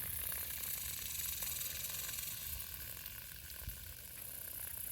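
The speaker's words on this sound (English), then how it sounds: "Water's coming out." Small solar-powered pump running a homemade garden water feature, with water steadily splashing and trickling in a continuous wash of sound, close and even throughout.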